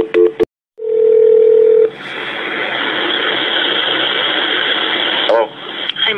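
A steady telephone tone sounds during a dispatch call transfer to voicemail, then gives way to a long hissing line tone, loud and unbroken, with clicks at the edges.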